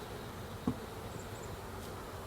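Honeybees buzzing around a hive just installed from a nuc box on a hive stand, a continuous steady drone of many insects at moderate distance, with no talking.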